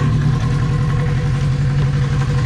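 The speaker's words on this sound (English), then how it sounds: "So I'm going to start the bike up and take some readings." A warm Kawasaki KZ550 motorcycle engine idles nearby. It holds a loud, steady low rumble with an even pulsing beat and no revving.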